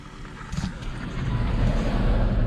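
A Land Rover climbs a steep off-road slope at Murlough Bay in County Antrim, its engine rumble building steadily and growing louder toward the end.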